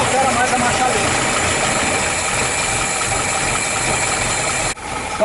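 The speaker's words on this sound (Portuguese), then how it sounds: "Vou bombeando o pedal e não altera mais a marcha lenta." A 1981 Chevrolet Chevette engine idles steadily and close while the brake pedal is pumped, a constant mid-pitched rumble with a faint knock, ending with a short clunk; someone talks over it.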